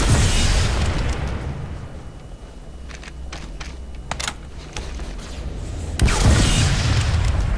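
Rockets explode against a tank in a video game's anti-vehicle test. Several heavy booms and bursts land over a few seconds, with the loudest hits near the start and end, each trailing into a rumbling decay.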